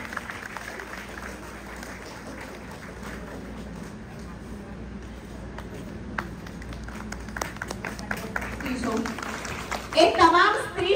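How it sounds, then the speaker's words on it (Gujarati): Applause from an audience at a speech, honoring a woman, with a continuous clapping texture under chatter and children's voices that swells louder near the end. "જોરદાર તાળીઓ સાથે આપણે બેનને સન્માનીશું।"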